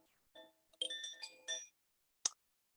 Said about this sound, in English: I love this chime sound too.